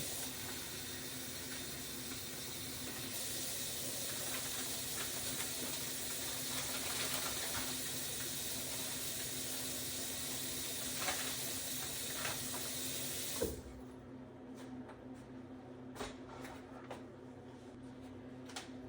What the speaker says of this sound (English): So I'm going to put this in the skillet and actually cook it at this point.